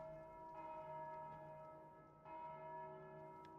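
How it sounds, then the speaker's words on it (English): Bells tolling in the Dark Souls II video game, two sustained, resonant strikes with long ringing tones, the second arriving about two seconds after the first, fairly faint and alone. "You come in here and ring all the bells?"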